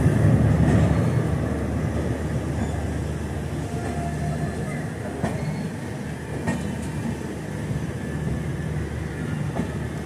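A train rolls along the Asarwa–Udaipur railway route, where the track had been heavily damaged. Its rumble is loud and close, and a dense, steady rolling roar with faint rail clatter runs unbroken through the whole stretch.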